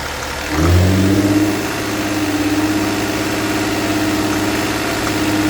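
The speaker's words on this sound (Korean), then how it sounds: "AT 엔진 스톨 1500rpm을 5초간 유지 후 바로 풀스톨을 5초간 유지하십시오." A car engine held under load during an automatic transmission stall test rises in a quick rev, then holds a strong, steady droning hum for several seconds with no talk.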